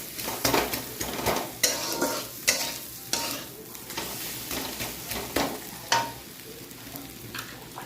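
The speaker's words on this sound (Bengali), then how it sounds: "এভাবে নেড়ে নেড়ে হালকা ফ্রাই করে নেব ডিমটাকে।" Fish roe stirred and lightly fried in a pan: a spatula scrapes and clinks against the metal in irregular strokes over a soft, steady sizzle, with no talking.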